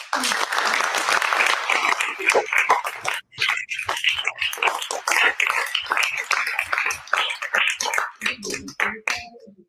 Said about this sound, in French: il mérite les applaudissements